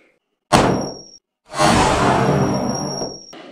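A 9mm Glock round strikes a D2 steel knife, producing two sharp metallic impacts: a short clang, then after a brief gap a longer ringing hit whose tone lingers and fades, near and loud.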